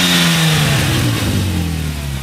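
A 2005 Porsche 911 Turbo S Cabriolet (996) with its 3.6-litre boxer turbo engine and X50 power package revs loudly up close, the engine note sliding downward as the revs fall, with no talk over it.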